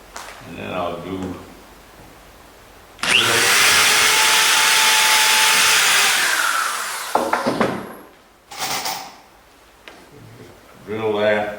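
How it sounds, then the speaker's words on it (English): A power drill bores into the wooden planking of a skiff, a steady loud whine running for about four seconds before cutting off, with someone talking briefly before and after. "I'll just bring this over and get my drill here"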